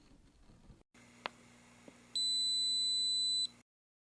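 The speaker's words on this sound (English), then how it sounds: "Press once to take a still photo and it beeps." A couple of faint clicks followed by a clear, steady electronic beep lasting about a second, close to the microphone over quiet background hum.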